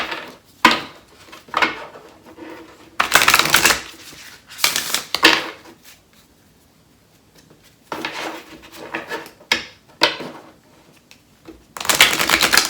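Oracle cards being shuffled by hand, several bursts of crisp riffling and flapping separated by short quiet gaps, close and fairly loud with no talking.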